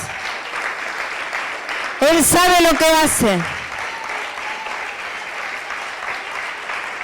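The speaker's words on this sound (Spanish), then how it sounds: "¿Cuántos le dan un aplauso al Señor?" Congregation applause at a Sunday church service in Mar del Plata bursts in loudly for about a second and a half, framed by a preacher's amplified voice talking before and after.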